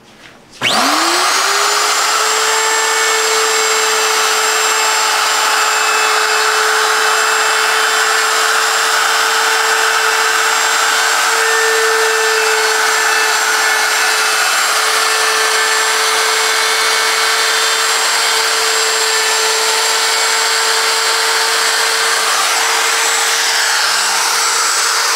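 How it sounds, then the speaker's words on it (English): A router fitted with a quarter round-over bit screams at a steady high pitch as it spins up and runs continuously while rounding the corners of an end grain wooden cutting board, loud and close. "all he's gonna do is a quarter round over bit just around the corners"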